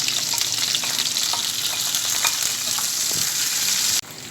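Mustard seeds, fenugreek and onion fry in hot oil, giving a steady, loud sizzle with scattered small pops and crackles that drops abruptly near the end.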